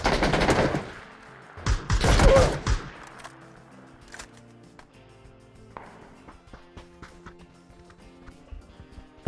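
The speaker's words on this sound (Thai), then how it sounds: "การระบุทิศทางของเสียงปืนว่ามาจากทิศไหน" PUBG gunfire: a loud burst of rapid shots, then a second heavy volley, followed by scattered fainter shots and clicks, with no voices.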